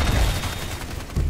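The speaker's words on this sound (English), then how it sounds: "And then he's also got sentry guns," Sentry guns open fire in the video game Evolve, a dense, loud fusillade of rapid shots with booming low thuds, continuous across the short stretch and swelling again at the end.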